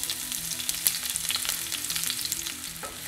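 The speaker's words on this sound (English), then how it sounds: "A little bit of olive oil in the pan. Let that heat up. Once I toss in our onions." Onions frying in hot olive oil in a pan give a steady, close sizzle throughout, with background music running underneath.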